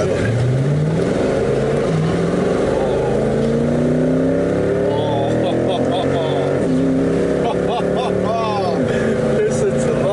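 Mercedes SL63 AMG V8 with the roof down, blasting through a tunnel in Spain; loud, close engine revs rise and fall in repeated sweeping pulls, with faint voices mixed in.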